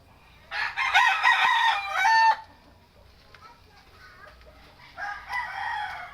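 A thin, underweight rooster crows loudly in a long harmonic call, then clucks softly and sporadically before a second, shorter crowing burst near the end.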